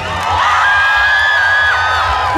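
A concert crowd at the Belgrade Beer Fest 2023 screams and cheers loudly and continuously, with high, sustained shrieks and whoops rising and falling throughout.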